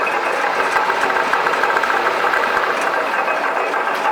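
A Fitzpatrick twin-roll rotary size reduction mill with a 7.5 hp US Motors motor and synchro gear drive runs steadily, a loud continuous mechanical whir and hum.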